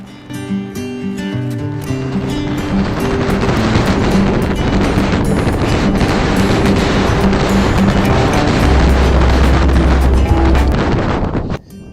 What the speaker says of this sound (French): lorsqu'il y a du vent, c'est tout pour vous et c'est parti, je vous laisse écouter ça.